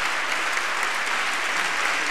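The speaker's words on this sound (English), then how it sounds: "please give a big round of applause for our 2012 Heritage Toronto Award recipients" Audience applause at a Toronto heritage awards ceremony, a dense, steady wash of clapping from a large crowd with no voices over it.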